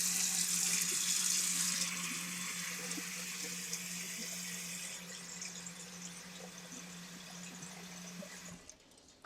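Tap water runs steadily into a pot of beans, a hissing stream that gradually softens before cutting off with a clunk at the end.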